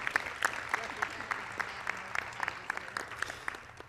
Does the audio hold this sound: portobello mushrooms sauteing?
no